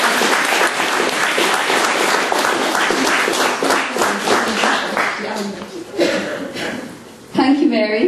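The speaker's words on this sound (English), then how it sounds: "2 rounds of applause" An audience at a creative writing open mic applauds with dense, sustained clapping that thins out toward the end, followed by a brief murmur of voices and laughter.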